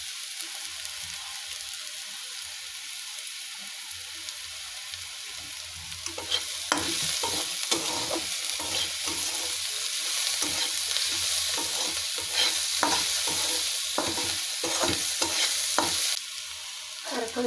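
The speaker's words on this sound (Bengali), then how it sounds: "পেঁয়াজগুলো দিয়ে দিয়েছি। এগুলোকে ভালো করে ভেজে নেব।" Onions fry in a pan with salt for egg bhuna, a soft steady sizzle that grows louder as a spoon begins scraping and stirring in repeated strokes.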